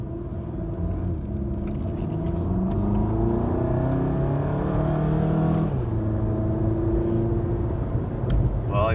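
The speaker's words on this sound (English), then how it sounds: "in sport mode, it likes to rev a little bit more" Volkswagen GTI Mk7 engine in sport mode revving up through rising pitch sweeps, a steady loud rumble with a drop and fresh climb partway, heard from inside the car with no talk.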